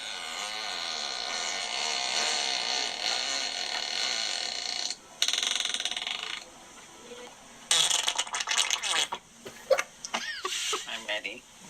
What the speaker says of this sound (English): it says huge farts after a colonoscopy